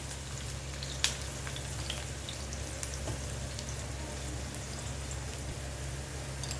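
Onions frying in a pan for a chana dal and coconut curry, a steady soft crackling sizzle with an occasional sharper pop or tick, even in level throughout and without speech.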